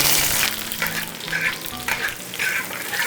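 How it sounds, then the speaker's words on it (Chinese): Ginger and garlic hit hot oil in a wok, sizzling steadily while a utensil scrapes and stirs in a few rhythmic bursts, close and alone. "现在我们直接下锅爆炒，加点油，再放入姜蒜"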